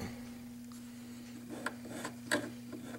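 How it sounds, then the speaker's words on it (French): A hand file making a few small strokes on a silver solder piece for soldering bails on jewelry, soft close rasping with a couple of sharper scrapes over a faint steady hum. "donc quelques petits coups de lime des deux côtés"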